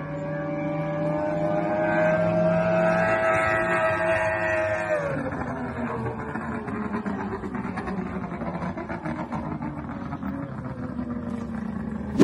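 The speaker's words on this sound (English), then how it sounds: "The acceleration and deceleration sound of this speedboat." A speedboat with an outboard motor, carrying soldiers across a river, revs up to a high whine and then drops sharply in pitch as it slows, continuing at a lower drone. The sound is moderately loud and there is no talk.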